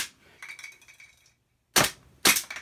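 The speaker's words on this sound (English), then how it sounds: "I'm on the left side, trying to shoot the right target" An airsoft gun fires at a target, with light clinking early on, then two sharp, loud shots about half a second apart.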